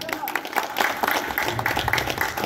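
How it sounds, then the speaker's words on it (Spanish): Applause from an audience at an evening ceremony installing the main festival sponsor couple, a steady dense clatter of many hands filling the room. "Un fuerte aplauso, por favor."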